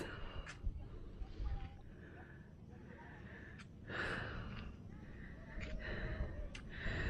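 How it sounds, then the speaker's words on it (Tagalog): Heavy breathing and gasps from someone who has just climbed a long flight of stairs outdoors near a hanging bridge in Alfonso Lista, Ifugao, steady panting over a noisy open-air background with faint voices. "Lakas ng hingal ko."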